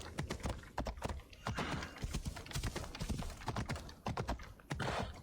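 Horse hooves clip-clop in a quick, continuous rhythm in Assassin's Creed Odyssey, loud and close, alongside clicky keyboard-like taps.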